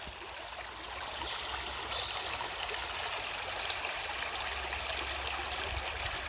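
A clean woodland stream in Derbyshire, England trickles over slate, shale and bedrock, a soft continuous burble heard alone.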